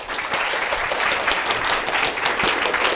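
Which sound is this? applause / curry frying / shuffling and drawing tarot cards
applause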